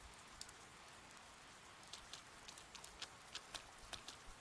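Rain falls in the video game Persona 4 Golden, a faint steady hiss with scattered sharper drops ticking more often toward the end.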